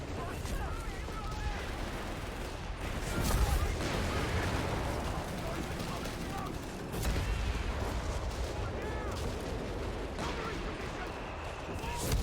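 Artillery barrage in Company of Heroes 3 with British forces, a continuous rumble of distant shell impacts and gunfire that thickens in bursts, while someone talks over the battle.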